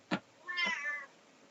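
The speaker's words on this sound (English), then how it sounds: "I've got a cat here" A tailless elderly cat gives a short chirp and then a longer drawn-out meow, close and alone in a quiet room.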